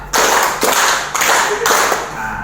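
Several rounds of group hand claps in a rehearsed clapping pattern at a teacher training session, loud bursts separated by brief gaps, each set starting sharply and trailing off.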